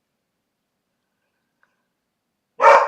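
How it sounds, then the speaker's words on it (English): A single sharp dog bark bursts out loudly at the very end after near-silence, close by. "my dogs are so annoying. They usually don't bark at much"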